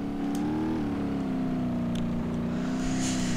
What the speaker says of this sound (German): Schön in der Cockpit-Perspektive lang zu driften.